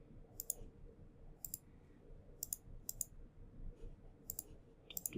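Computer mouse clicking at a desk, a series of sharp, faint, close clicks spaced out singly and in quick pairs over a quiet room hum, with no talk.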